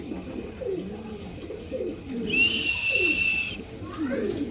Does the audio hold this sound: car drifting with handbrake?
no